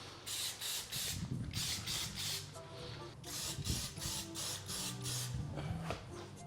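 Spray paint hisses in repeated short bursts as a HasLab Proton Pack is repainted, with irregular bursts separated by brief pauses and some faint mechanical rattling underneath.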